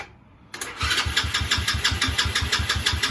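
A 110cc Evoque ATV engine with a new carburetor cranks steadily after a short silence, its rhythmic starter chugs repeating about three times a second, close and loud, without catching.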